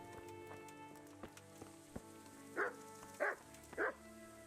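A dog barks three times in the medieval video game Kingdom Come: Deliverance, fairly quiet and evenly spaced, after a few soft hoof knocks from horses nearby.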